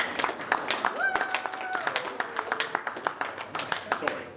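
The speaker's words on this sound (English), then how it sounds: "Now that deserves a round of applause." Scattered clapping from a small group, uneven and moderately quiet, with voices talking and calling out over it.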